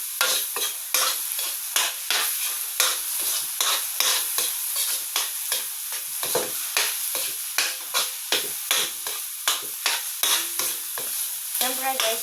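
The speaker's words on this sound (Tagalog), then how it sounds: "kailangan natin ihalo-halo ito ng kwan. Para hindi magdikit-dikit kasi may itlog." Eggs being stirred in a frying pan, a steady rhythmic scraping of a utensil repeating over a constant bright sizzle, close and fairly loud with no talking.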